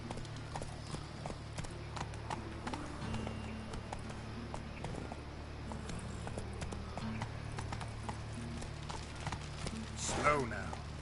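Roach the horse galloping in The Witcher video game, with rapid rhythmic hoofbeats on the ground running continuously, a voice speaking over them and a brief louder flourish near the end.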